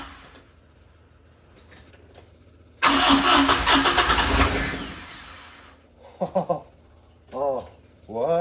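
A rebuilt Fiat 124 engine from a barn find cranks and catches with a sudden loud roar. It runs roughly for a few seconds, then stops, and voices follow.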